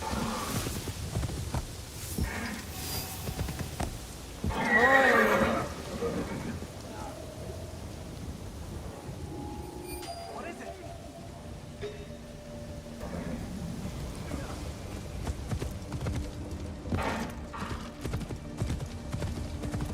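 A horse's hooves clop steadily in Assassin's Creed Shadows, moderately loud against wind and rain-like ambience, with a brief louder rush midway and no neigh clearly standing out.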